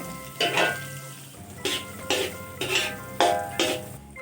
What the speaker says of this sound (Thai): พอเนยในลายดีแล้ว เราก็ใส่กุนเชียงลงไป